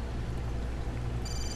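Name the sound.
telephone ringing in Assassin's Creed video game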